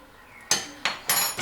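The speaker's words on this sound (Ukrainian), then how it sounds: "Перемішую. Зараз все це буде пінитись." A spoon stirs a mixture of baking soda and salt in a bowl, giving three or four sharp, bright clinks and scrapes in a quick, uneven rhythm with no talking.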